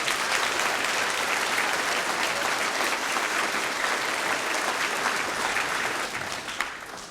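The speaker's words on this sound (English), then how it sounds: "Should we give them a bit of a clap?" An audience at a primary school's refurbishment reopening ceremony claps heartily. The applause is dense, steady and loud throughout and tails off slightly near the end.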